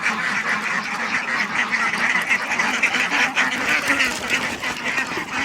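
A flock of Blanc de l'Allier ducks, five laying females among them, quacking steadily on a farm during an evening round in August, a dense continuous chorus close by with no talk.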